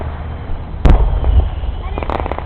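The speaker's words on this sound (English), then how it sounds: "This is the end of the Maumee Perrysburg fireworks." Fireworks finale over Maumee and Perrysburg in 2010, heard from a backyard: one loud, sharp near burst, then a scatter of crackling pops and further thuds against a steady low rumble of distant explosions.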